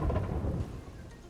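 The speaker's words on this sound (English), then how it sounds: "Well, that was a heck of a rumble storm right there." Thunder rumbles loudly in a Terraria storm, a deep booming roll that fades within a second, with a soft hiss of rain underneath.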